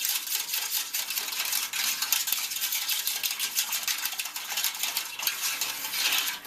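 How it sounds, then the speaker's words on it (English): Gravy is whisked in a pan as it heats: a steady, close, rhythmic metallic scraping and swishing that runs without pause, with no voices. "Whisking it as it heats keeps the lumps away."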